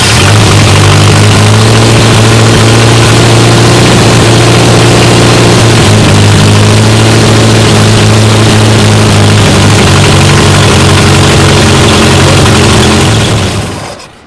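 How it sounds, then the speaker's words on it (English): A marine gasoline engine being cranked and run during a spark plug test, a loud, steady low drone that holds for most of the stretch before cutting off abruptly at the end. "now you open the ignition switch and you crank the engine and you verify the spark over there"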